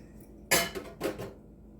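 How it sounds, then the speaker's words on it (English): A utensil clinks against a bowl while milk and one egg are mixed for meatloaf: two or three quick, close clatters within about a second, then quiet. "Called for 2 eggs. I'm using 1. Mix that up."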